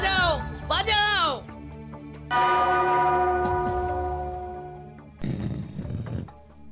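A cartoon bell rings out with a long, resonant tone that slowly decays, set among animated voices and shouts before and after the ringing.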